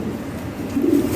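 Pigeons coo softly in a low, steady murmur at close range during a pigeon delivery, with no talking.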